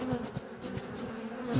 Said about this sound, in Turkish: Durumu güzel ama arılar hırçın. Arılar çok hırçın.